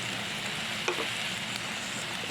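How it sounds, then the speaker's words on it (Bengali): Spice paste with water and red chili powder fries in a pan, making a close, continuous hissing sizzle with a faint stirring tap partway through and no voices. "এবার আমি একটু জল দিয়ে দিলাম মশলাটা নাহলে পুড়ে যাবে জল দিয়ে ভালো করে কষিয়ে নিই"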